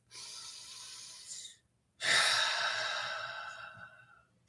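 A deep breath with a long, close, breathy draw, a short pause, then a longer and louder exhale that slowly fades out, without any talking.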